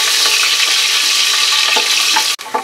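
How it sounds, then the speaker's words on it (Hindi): Onions frying loudly in a pot with garam masala for mutton dal gosht, a dense, close, continuous sizzle with small spattering pops and a brief stir-like break near the end, no speech. "इसके साथ ही हम इसमें अनियन ऐड करेंगे और अनियन का कलर थोड़ा सा चेंज हो जाए"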